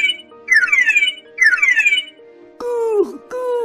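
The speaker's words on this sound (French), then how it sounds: "Oh non, on a déclenché l'alarme." Alarm going off in a children's animated game scene, repeated rising electronic chirp tones over a sustained low hum, then a louder siren-like wail in two bursts.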